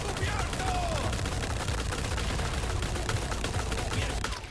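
Gunfire in Resident Evil 4 Remake on Hardcore difficulty sounds as a fairly quiet, dense, continuous crackle of rapid shots with no pauses.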